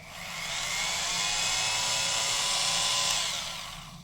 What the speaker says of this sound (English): When you turn this on, this blade jiggles back and forth like so.